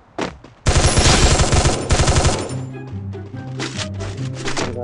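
A Bizon submachine gun in Free Fire Max fires a loud, rapid burst of close shots lasting nearly two seconds, then trails into scattered lighter shots and game effects.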